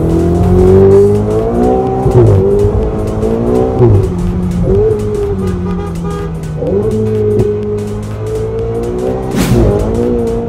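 Ferrari 488 GTB 2016 with automatic gearbox, its engine revving loud and close in rising and falling sweeps with sharp shifts between pulls, a steady strong drone throughout and no talk.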